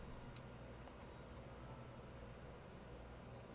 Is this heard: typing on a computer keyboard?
yes